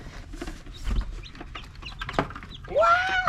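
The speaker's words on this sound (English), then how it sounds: "We gotta get these chickens off in here quick before they all escape." Farm chickens cluck and squawk in scattered bursts as chicks are released, then a loud rooster-like squawk rises at the end, close by, with faint rustling between the calls.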